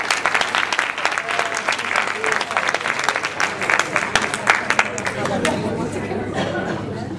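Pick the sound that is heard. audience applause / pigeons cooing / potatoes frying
audience applause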